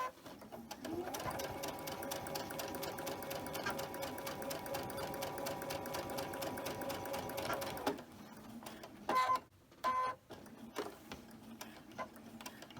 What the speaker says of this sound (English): if you need to help your sewing machine get through the bulkiness, you can pull a little bit on your fabric